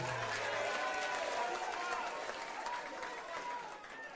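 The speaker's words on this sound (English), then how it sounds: "Another round of applause for Baba wa kila mtu." Rally crowd applauding and cheering for Raila Odinga at an ODM event in Kenya, a dense, steady roar of clapping and voices at close range, with a brief low tone at the start.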